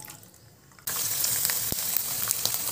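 Sago pearls drop into hot oil already used for frying potato strings, and a loud, steady sizzle bursts up abruptly after a quiet moment, continuing as a dense crackling hiss with scattered pops.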